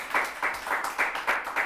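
A small audience claps in a slow, rhythmic pattern, about six distinct beats of applause close by, with no one talking over it.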